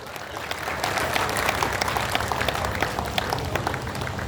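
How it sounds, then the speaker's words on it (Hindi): An audience at a Powergrid Corporation programme in Lakhisarai, Bihar, applauds steadily, a dense, sustained patter of many hands clapping in a hall. "तालियां बजती रहनी चाहिए।"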